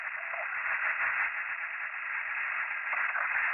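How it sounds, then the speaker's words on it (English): Hiss of static keyed up over a portable radio, a steady band of noise holding for a few seconds, fairly faint and with no voices. "that all-familiar static noise keyed up over my portable radio"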